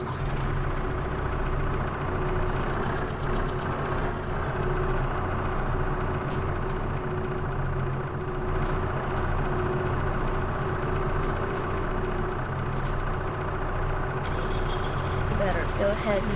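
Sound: truck engine pulling a trailer in Farming Simulator 22 video game

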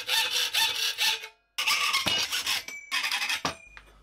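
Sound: sawing

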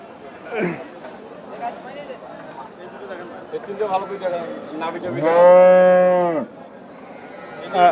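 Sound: cattle mooing at a bull market

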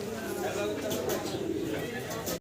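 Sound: Lahori pigeons cooing

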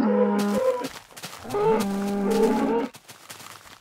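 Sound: cows mooing in the video game Minecraft

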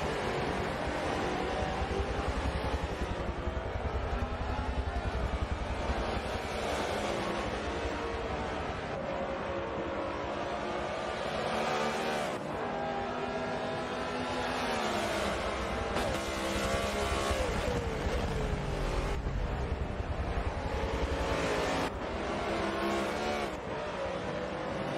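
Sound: BMW M3 race cars driving in a sim racing game

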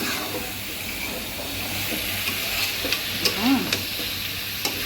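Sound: broth added to curry with potatoes, sizzling and stirring

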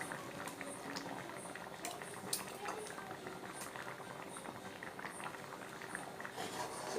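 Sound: curry boiling in a pot

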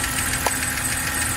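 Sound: used car engine running at an auction, possible pulley noise

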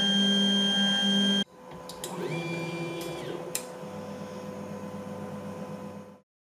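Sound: Ender 3 3D printer running with TMC2209 stepper drivers

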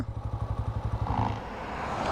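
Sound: 125cc sports bike engine shutting off by idle start-stop

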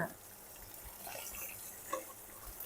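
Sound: Mae Klong mackerel frying in a pan

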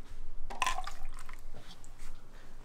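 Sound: water being poured into a glass of beer

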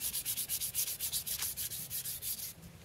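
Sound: sanding wood by hand

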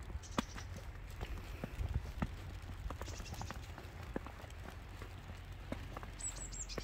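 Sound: footsteps crunching on snow

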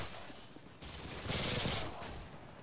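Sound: machine pistol gunfire in Modern Warfare 2 video game

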